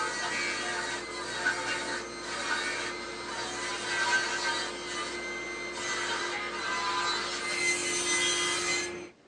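Wood pieces being sawn to width for the legs of a simple wooden bed, a steady continuous sawing hum with a constant tone and gritty rasp running loud and close throughout, cutting off near the end, with no voices.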